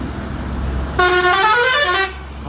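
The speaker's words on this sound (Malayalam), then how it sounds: "ഹോണടി ഹോണടി അത്രേ ഉള്ളൂ" A loud, sustained vehicle horn blares for about a second, its steady harmonic tone cutting through low traffic rumble before stopping.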